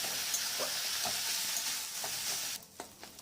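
Pento greens frying in a pan, a steady close sizzle with soft stirring knocks that drops away sharply near the end, leaving a few faint clinks.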